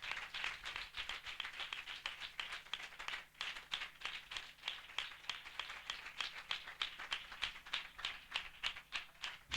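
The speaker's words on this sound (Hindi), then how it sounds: "हम जोरदार तालियों से उनका स्वागत करें।" A congregation at a church spiritual assembly claps in a quick, fairly regular rhythm, soft and somewhat distant, with no voices over it.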